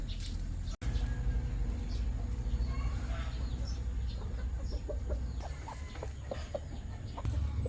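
A chicken clucks in short repeated bursts, some close and clear, over a background of people talking in a domestic setting.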